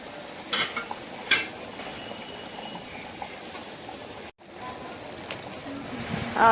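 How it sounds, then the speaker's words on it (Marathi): Fish pieces deep frying in oil with garlic and curry leaves, a steady close sizzle and bubbling with a few sharper crackles and a brief dropout, no talking. "म्हणून त्यांच्यासाठी मी डीप फ्राय केलाय आणि लसूण वगैरे आणि कढीपत्ता टाकून"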